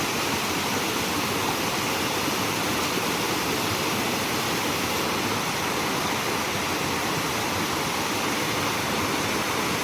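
A mountain river in the Great Smoky Mountains rushes steadily, a dense, close, unbroken roar of flowing water with no voices.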